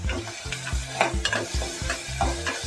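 A spoon stirs mustard seeds in a hot pan, with crisp sizzling and repeated rhythmic scraping strokes roughly every half second, close and clear with no talking.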